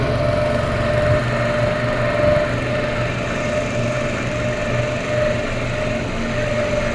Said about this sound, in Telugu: చాలా పెద్దగా ఉంది పడవ పోతూ ఉంది